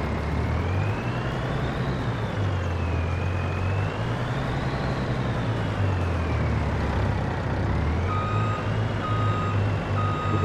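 A Volvo truck reversing in Farming Simulator 22, its backup beeper repeating steadily over a loud, continuous engine drone with a wavering whine, and no voices.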